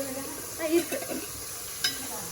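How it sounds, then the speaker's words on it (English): Spices, including cinnamon, sizzle and crackle softly in a hot pan while cooking biryani, a steady frying hiss with a brief stir and faint voice beneath. "If you guys can hear it is sizzling."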